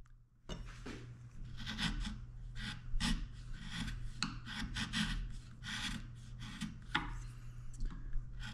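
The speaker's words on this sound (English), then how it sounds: "nothing a little chiseling and block planing can't take care of." Hand chiseling and block planing on a wooden joinery template, a steady run of close scraping, shaving strokes with rhythmic rasping bursts and a constant low hum underneath.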